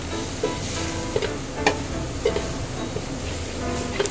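Ground meat sizzles slowly in a hot pan, with a steady close crackle broken by scattered clicks and scrapes of stirring, and no talking.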